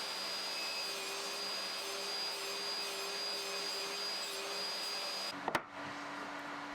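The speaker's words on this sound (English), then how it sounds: "took several passes through the blade using my crosscut sled to form the joint" A table saw with a crosscut sled cuts a joint for a herringbone beech and mahogany side table: a loud, steady high whine runs without a break, then drops off abruptly with a couple of sharp clunks near the end.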